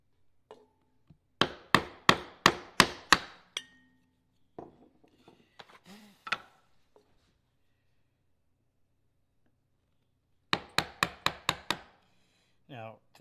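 Chisel chopping into wood along a dovetail pin: a rapid run of six sharp mallet-driven strikes, a few scattered knocks and brief movement sounds, then another quick burst of five or six strikes, close and loud with no voices.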